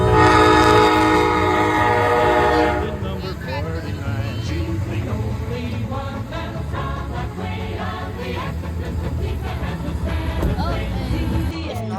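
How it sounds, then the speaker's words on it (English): An Amtrak Piedmont passenger train in central North Carolina rolls past with a long, loud horn blast at the start, followed by rumbling wheels and rattling cars under some distant voices. "you've probably seen one of these trains"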